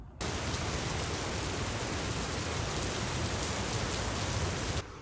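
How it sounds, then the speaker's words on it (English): Steady, heavy rain pours down at a mountain campsite, a dense, even hiss that starts abruptly, holds for several seconds, and then cuts off, with no voices. "it's raining all day at our campsite"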